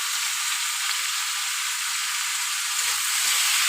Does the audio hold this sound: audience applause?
no